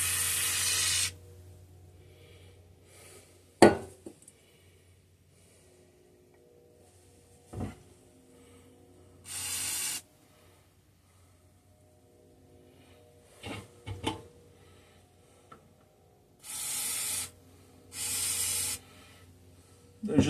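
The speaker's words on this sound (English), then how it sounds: "I'm trying to spray it underneath the sheet metal too to get it to go to the screw underneath the sheet metal." Penetrating lubricant sprayed from an aerosol can onto rusty screws and sheet metal of an old 1950s Bolens Power Ho tiller, several short close hissing bursts between clicks and knocks of handling.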